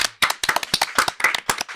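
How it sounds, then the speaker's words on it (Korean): Studio audience clapping in welcome of guests on a Korean political talk show, a dense burst of applause with sharp, rapid hand claps that swells and holds steady for the whole moment, close and loud with no talk over it. "큰 박수 환영해 주십시오."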